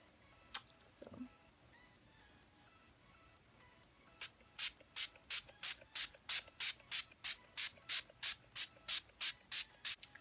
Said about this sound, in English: I'm going to set my makeup with this Photo Focus setting spray.